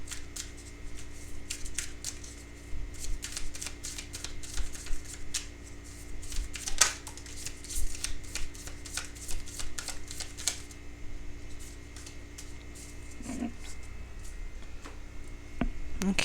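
Tarot cards being shuffled in a quiet room, a rapid run of soft crisp riffling and flicks lasting most of the stretch, with no speech.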